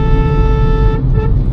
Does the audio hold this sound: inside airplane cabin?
no